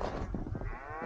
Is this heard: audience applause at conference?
no